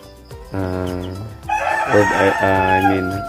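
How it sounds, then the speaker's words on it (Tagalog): A Rhode Island Red x broiler rooster crows close by in a loud, drawn-out cock-a-doodle-doo, with other chickens clucking alongside in a farm pen. "So ayan mga chicken, kumakain na sila, no?"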